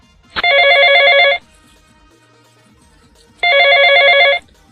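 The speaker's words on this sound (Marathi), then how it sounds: "कोणाचा फोन आहे ग? दाजींचा फोन आहे, व्हिडिओ कॉल." A phone rings for an incoming video call in two loud, sustained bursts of electronic ringtone, separated by about two seconds of near silence, with no talking.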